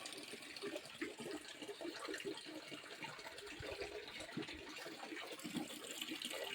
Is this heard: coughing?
no